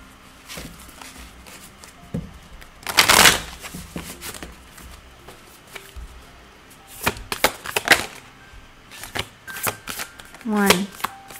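Oracle cards being shuffled by hand in bursts, crisp riffling flutters separated by quieter handling and soft taps, close up with no talking over them.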